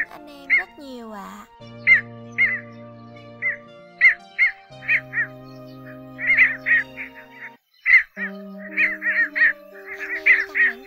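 Cò hương and cò lửa bittern calls come in short, repeated bursts over a steady background of sustained tonal music that runs under the whole stretch, the calls clustering in quick runs near the end.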